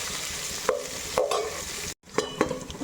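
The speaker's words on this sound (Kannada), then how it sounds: "ಜೀರಿಗೆ ಎಲ್ಲ ಕೆಂಪಗಾದ್ಮೇಲೆ ಹಸಿಮೆಣಸಿಕಾಯಿ ಮತ್ತು ಈರುಳ್ಳಿ ಹಾಕ್ಕೊಂಡಿರೋಣ." Green chillies and onion frying with cumin in a pan, a steady sizzle broken by a few sharp stir scrapes, a brief dropout, then more stirring close by with no voices.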